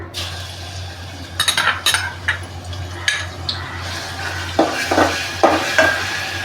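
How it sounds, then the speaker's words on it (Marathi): Ginger and garlic sautéed in oil in a pan while cooking a Marathi-style boi fish curry, with a soft steady sizzle beneath repeated close scrapes and clinks of a spoon stirring against the pan. "आलं लसूण थोडंसं असं परतायचं हळद पावडर टाकून घेऊ"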